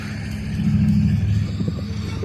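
A Norfolk Southern diesel locomotive works during rail yard switching for a grain train, its engine a steady low rumble that swells and surges slightly as it labors, close by and alone.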